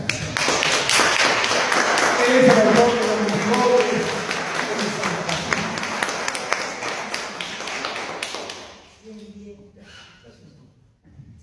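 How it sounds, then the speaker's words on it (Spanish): An audience at a festival event applauds for a standing guest, sustained dense clapping under crowd noise for about eight seconds, then tapering off as someone speaks. "Por favor, Jefferson, ponte de pie para otro aplauso."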